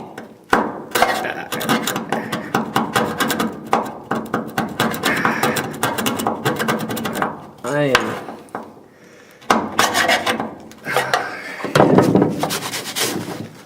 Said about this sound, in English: let's get a putty knife and let's dig.